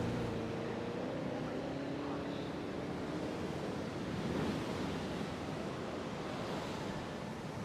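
Storm wind and crashing waves roar in Jurassic World Evolution 3, a loud, steady broadband wash with a low rumbling swell that continues without a break.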